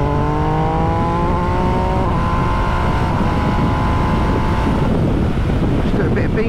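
An MV Agusta Dragster RR Pirelli Edition motorcycle pulls through its revs while riding, the engine note rising and then holding, heard under heavy buffeting wind noise.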